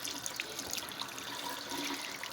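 Water splashes and sprays in a steady, fairly faint, continuous rush with small scattered droplet spatters and no talking.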